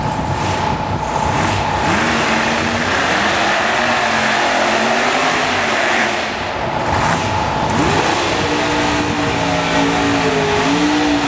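A Camaro drag racing car at Jackson Dragway revs hard and accelerates, its engine note climbing through rising gear-like sweeps, loud and close, with another surge of revving near the end and no talk over it.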